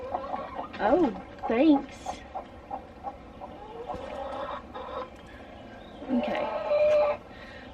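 A broody backyard hen clucks and grumbles up close in short throaty bursts, mixed in with a person talking nearby.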